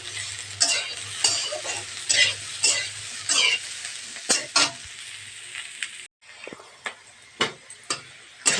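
Potatoes, cauliflower and onion frying in a pan, a spoon stirring and scraping in repeated strokes over a continuous sizzle, close up, with a brief pause partway through and no talking.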